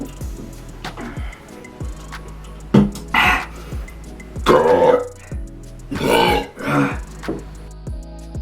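Loud, guttural burps come in several separate bursts after someone chugs a 3-liter bottle of Diet Pepsi Zero, with a low rumbling drone running underneath.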